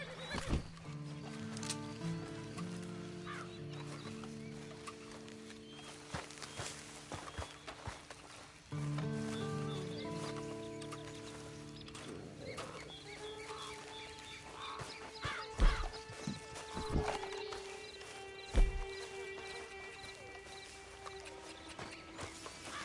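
Horses whinny repeatedly amid clopping hooves and scattered thumps in Red Dead Redemption 2 Online, a busy layered scene with several calls at moderate volume.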